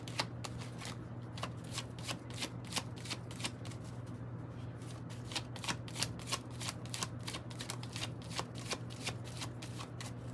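Rapid riffle shuffles of a tarot card deck, a steady run of crisp flutters repeating over and over, close by against a low constant hum.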